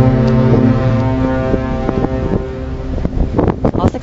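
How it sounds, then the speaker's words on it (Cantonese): The cruise ship Seven Seas Voyager, a 40,000-plus-ton vessel in Victoria Harbour, Hong Kong, sounds its deep horn while closing on a Star Ferry, a sustained blast at the start, followed by gusty wind noise and scattered knocks. "世界第2大郵輪維港撞小輪，讀者嘅影片可以清楚聽到重4萬幾噸嘅 Seven Seas Voyager 前日眼見就快撞向前面嘅天星小輪不斷響號"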